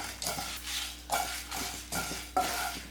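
Dry red chillies and spices are roasted and stirred in a pan, with about six rhythmic scraping strokes and faint rattles of the spices, close and clear with no talking.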